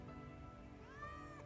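Cat meowing in the Final Fantasy VII Remake video game, a single faint rising-and-falling meow near the end over soft game ambience.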